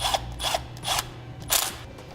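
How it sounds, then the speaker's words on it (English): A power tool drives screws into a Curt custom fifth wheel bracket on a Chevy/GMC pickup, coming in four short, close whirring bursts with brief pauses between them over a low background hum. "we'll take our screws, run them on through in there, and we'll tighten those down."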